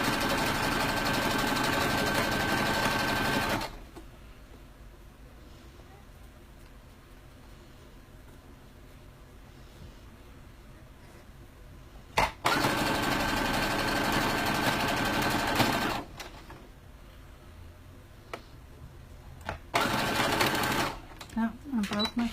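A home sewing machine runs in loud steady bursts while stitching fabric, with two longer runs separated by quieter stretches of talk and brief stops.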